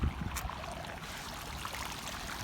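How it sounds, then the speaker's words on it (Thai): River water flowing strongly with a large volume of water, a dense continuous rushing and gurgling that stays steady throughout, close by and moderately loud. "น่ากลัวน้ำไหลปังปังปังปังปังเลยเห็นไหมล่ะ"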